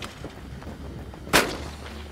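A single sharp Browning shotgun blast at a clay target cracks out near the middle, close and loud, with a short trailing echo over quiet outdoor background.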